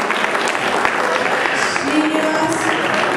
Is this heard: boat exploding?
no